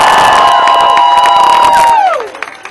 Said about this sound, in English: let's give another amazing round of applause to Cecilia Wong